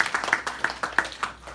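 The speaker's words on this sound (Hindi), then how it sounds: "तो ताली बजाकर हम धन्यवाद देते हैं।" A short burst of separate hand claps from a small temple gathering in Brisbane, irregular and fairly close, several sharp slaps over about a second and a half, fading quickly.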